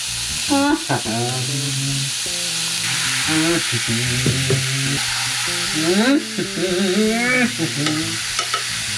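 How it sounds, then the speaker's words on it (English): Kimchi fried rice sizzling and being stirred in a saucepan, a steady frying hiss with scraping stir strokes, close and loud, while music with a melodic voice plays over it. "when I'm adding the kimchi in my saucepan"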